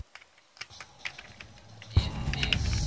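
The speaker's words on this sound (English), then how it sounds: "now I'm using a keyboard and mouse" Keys tapped on a computer keyboard, scattered light clicks at an uneven pace, close and fairly soft, with a louder low rumble of background noise joining near the end.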